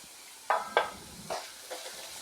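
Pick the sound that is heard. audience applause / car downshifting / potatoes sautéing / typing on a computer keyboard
potatoes sautéing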